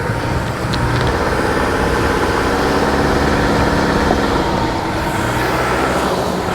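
A 2024 Toyota Tacoma engine drones loudly and steadily in 4 high with traction control off on an off-road hill climb, a dense continuous rumble that barely varies over the stretch.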